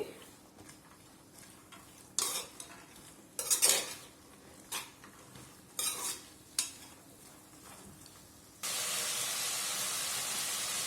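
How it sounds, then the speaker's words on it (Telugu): Spoon clinking and scraping against a metal pan at irregular intervals while ginger garlic paste is stirred into a cauliflower and field bean curry, ending in a steady hiss of frying. "ఇందులోకి ఒక టేబుల్ స్పూన్ దాకా అల్లం వెల్లుల్లి పేస్ట్ వేసుకొని మరోసారి కలుపుకుందామండి"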